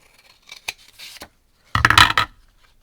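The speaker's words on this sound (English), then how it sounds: "let me just grab some scissors" Scissors snipping through cardstock during card making, a few short separate snips followed by a louder, longer crisp cut close to the microphone, with quiet pauses between them.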